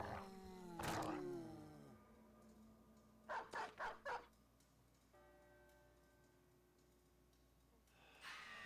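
A dog barks in the video game Battle Brothers: one loud, deep bark early, then a quick run of four sharp barks, with a faint tonal background hum between them.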